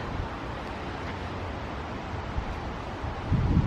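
Strong wind blows across the microphone at Mallory Park, a constant broadband rush with gusty low-frequency buffeting that grows heavier near the end; no voices.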